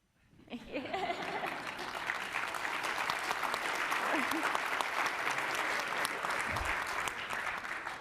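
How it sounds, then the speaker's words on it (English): An audience at a panel discussion breaks into applause after a talk, a dense clatter of many hands starting abruptly and holding steady, with a few faint voices and chuckles mixed in. "And you clapped."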